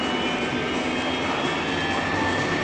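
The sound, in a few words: airplane engine during takeoff in a flight simulator game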